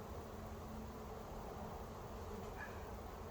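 A honeybee swarm droning around a swarm trap, a faint, continuous, even buzz with no distinct individual passes and no voices.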